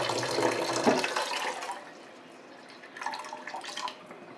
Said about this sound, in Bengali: এতক্ষণ জল বেরোচ্ছিল, এই দেখো টুকটুক করে পড়ছে